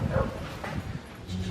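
Dogs at an animal shelter holding about twenty dogs and ten cats give off a muffled jumble of short yips and whimpery barks, close and continuous over a noisy background.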